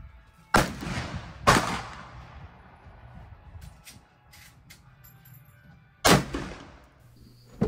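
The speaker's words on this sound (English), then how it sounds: "Watch the recoil on this first shot." A Savage 110 Trail Hunter rifle in 7PRC fired at a range: two loud, sharp shots about a second apart, each followed by a short echoing decay, then a quiet stretch with small clicks and a third shot near the end.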